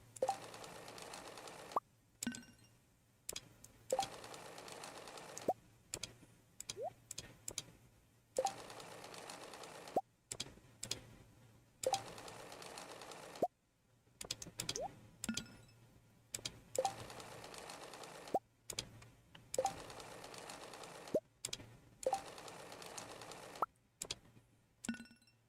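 Sewing machine effects in a farming video game, as clothing is sewn: short, faint mechanical whirring bursts repeat again and again, broken by gaps of near silence and small clicks, with no talk.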